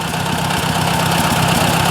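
A Ford 800 tractor engine, smoking and in rougher shape than expected, idles with a loud, close, steady low chugging throb and no talk.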